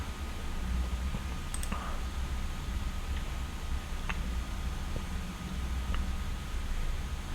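A computer mouse gives a few sparse, crisp clicks over a steady background hiss, with long gaps between them.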